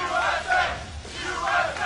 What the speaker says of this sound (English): the crowd chanting USA in the background, happy to have their hometown team pick up a win right here